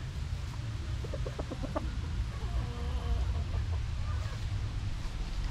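Chickens at a poultry farm cluck in a few short bursts over a steady low rumble of outdoor background noise, fairly quiet and close.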